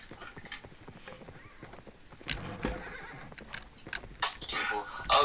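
A horse in the Minecraft video game whinnies and neighs with clip-clop hoofbeats, growing louder toward the end, while a person talks over it.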